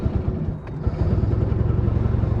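A 1965 Gnat Mk1 vintage ATV engine idles and runs steadily nearby, a continuous low chugging rumble with even throbbing pulses and a brief dip in the middle, with a slightly leaking carburetor float bowl.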